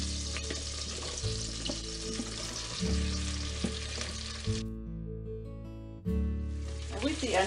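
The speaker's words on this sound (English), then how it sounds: "With the onions, you just want to sweat this down" Onions sweat in melted butter and olive oil with a steady, soft sizzle, close and low in level, broken by a few stirring scrapes and one brief pause, while a voice talks over it.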